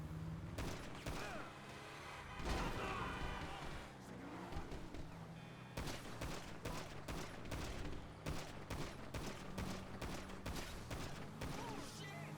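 Gunfire in the video game Grand Theft Auto Online, rapid sharp shots in bursts over game engine and vehicle noise, with a continuous bed of game sound.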